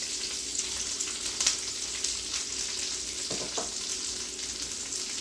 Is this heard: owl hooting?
no